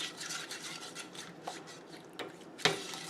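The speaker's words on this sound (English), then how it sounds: "We just want to keep stirring it" A spoon stirs a sugar and cornstarch mixture in a pot over very low heat for fresh strawberry pie, soft rhythmic scraping strokes with a few light clicks against the pot, quiet and close.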